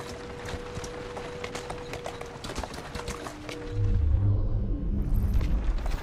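In the video game Assassin's Creed Syndicate, a horse's hooves clip-clop in a brisk, steady rhythm at close range, then a deep rumbling boom rises and swells over the last couple of seconds.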